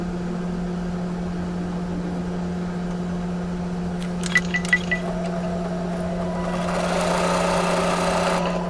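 Embroidery machine with a magnetic hoop stitching a placement line, a steady droning hum with a few light clicks midway and a brighter, busier whir building toward the end, no voices.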